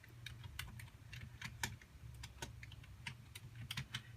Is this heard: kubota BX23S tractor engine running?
no